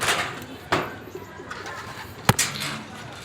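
A racing pigeon arriving at its loft coos a few times, faint and close, over background ambience with scattered soft knocks.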